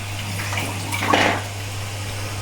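Water is tipped out of a cooking pot of potatoes into a sink, a brief splashing pour that swells in the middle over a steady low hum, with no talking.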